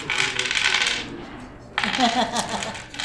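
Gilded dice clatter and rattle across a table during a tabletop roleplaying session, with two bright bursts of tumbling hard clicks separated by a short lull and no speech.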